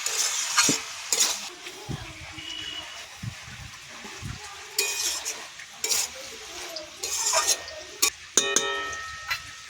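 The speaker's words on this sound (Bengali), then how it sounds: "নুন দেবো অল্প করে, এবার ভালো করে কষে নেব।" Banana stem stir-fried with shrimp, spices and salt in a pan: bursts of sizzling alongside repeated metal spatula scrapes and clinks, uneven and close.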